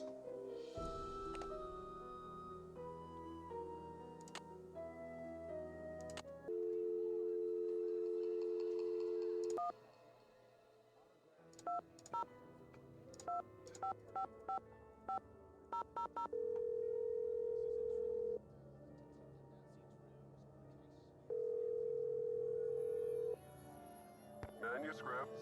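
Telephone sounds from the Nancy Drew video game: a steady dial tone cuts in and out among bursts of dialing tones and short beeps, clear and sustained at a close, even level, with a voice heard briefly.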